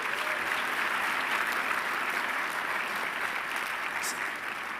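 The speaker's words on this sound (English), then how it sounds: "Can we give a round of applause for our hosts" An awards ceremony audience applauds its hosts with a dense, steady roar of clapping that holds at an even level from start to finish, with a few cheers showing through.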